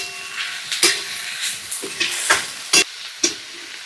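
Phanji, a wild leafy vegetable, fries in oil in a pan over a wood-fired clay stove with a soft steady sizzle, punctuated by several sharp crackles and clicks of stirring and spattering, close by.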